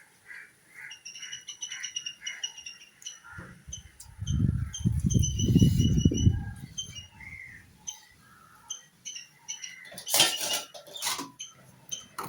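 Coconut sambol being mixed by hand with lime juice in a bowl, a close, loud wet squishing and mashing burst of a few seconds amid quiet background bird chirps and light clinks.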